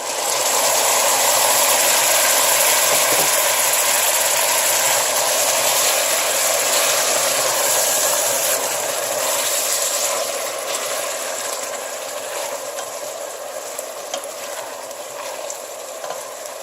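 Fish sauce with tomato sizzles steadily in a pan, a loud, close broadband frying hiss with faint stirring scrapes, slowly easing in level toward the end, no talking.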